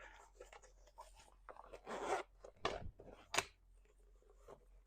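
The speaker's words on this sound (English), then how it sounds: "I'm gonna open my zipper up" A zipper on a sewn purse is worked open with short rasping pulls and handling rustles, close and quiet, in a few separate bursts.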